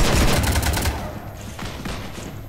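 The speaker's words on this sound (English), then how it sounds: "You want to stop shooting up my ship?" Dense rapid gunfire shooting at a ship in the video game Mass Effect 3, a loud burst of overlapping shots that cuts off after about a second, followed by quieter scattered shots and rumble.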